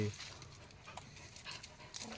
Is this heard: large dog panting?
yes